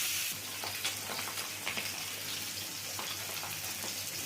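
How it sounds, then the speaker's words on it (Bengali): Pabda fish fry in hot mustard oil in a kadai, giving a close, steady hiss and spatter that is loudest at the start and then settles into an even crackle. "তেলটাকে ভালো করে গরম করে নিয়ে মাছগুলো ভেজে নিচ্ছি।"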